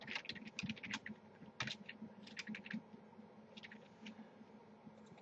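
Typing on a computer keyboard gives quick, light clicking keystrokes in irregular bursts with brief pauses, heard close and fairly quiet, with no talking.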